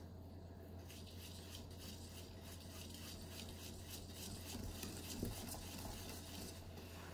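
Popover batter is whisked in a bowl with circular strokes, giving a quiet, steady scraping and stirring texture that runs continuously, with no voices.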